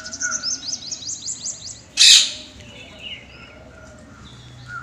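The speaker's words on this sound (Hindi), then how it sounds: "यहाँ पर जो कि पक्षी हैं, जो कि तोता है इसमें, पैरट देख सकते हैं" Parrots chirp and twitter continuously in a zoo aviary in Lucknow over a noisy outdoor background, with one sudden loud squawk cutting through midway before the chatter continues.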